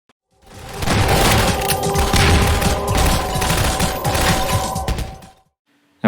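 Doors blast open during a scripted ambush in a Half-Life 2 level, a dense, loud roar of explosive booms and rumbling debris sustained for about five seconds before cutting to silence.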